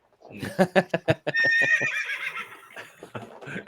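A horse gives a loud, close whinny, opening with a quick run of stuttering pulses and then stretching into a long, high, wavering call that fades out.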